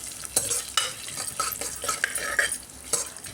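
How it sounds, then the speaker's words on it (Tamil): Curry leaves fry and crackle in hot oil in a pan, with a steady sizzle, repeated stirring scrapes and sharp pops that come through clearly up close. No one speaks. "அதுக்கப்புறமா கருவேப்பிலை போடுறேன். அதையும் நல்லா ஃப்ரை பண்ணுறேன்."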